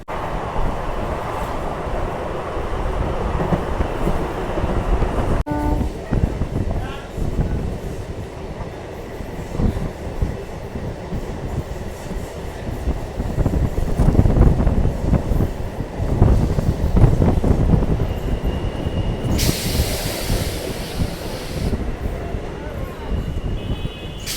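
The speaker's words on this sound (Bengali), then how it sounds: "আমাদের ট্রেনটি ছেড়ে দিল নিরল স্টেশন থেকে" A MEMU train rumbles and clatters along the tracks after leaving Niral station on the Katwa–Ahmadpur line, with rhythmic wheel clacks, rising and falling loudness, and a brief high hiss near the end.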